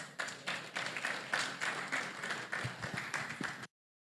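An audience claps at a student meetup with animation professionals, sustained clapping of moderate density lasting several seconds before cutting off abruptly.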